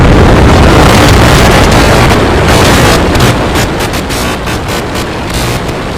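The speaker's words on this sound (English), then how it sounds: "We have liftoff. Vehicle is pitching downrange." A recreated Starship Flight 4 rocket liftoff: a very loud, continuous, saturated engine roar with rumbling, wind-like turbulence that holds steady and eases only slightly.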